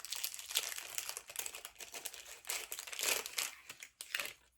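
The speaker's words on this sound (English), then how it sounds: "Sorry for all the crinkling." Cellophane packaging around holiday-themed knitting stitch markers crinkles and crunches almost nonstop, close and fairly loud, in dense bursts of crackling with brief lulls.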